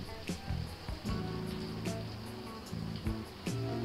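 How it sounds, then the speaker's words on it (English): Steady rush of shower water running in a video game bathroom, continuous broadband spray with soft tonal game sounds and music layered underneath. "Let's turn on the cold water first."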